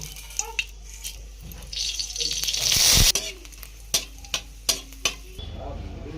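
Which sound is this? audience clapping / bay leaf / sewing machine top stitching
bay leaf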